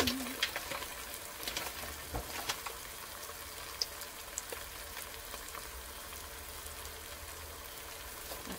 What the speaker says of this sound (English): I'm throwing in 1 pound ground beef